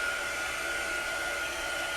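A heat gun blows hot air to dry chalk paste on a squeegee, a steady, loud whooshing hum with a faint tonal whine that runs unbroken throughout.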